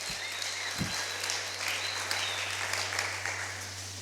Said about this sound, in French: Est-ce qu'on peut applaudir la parole du Seigneur?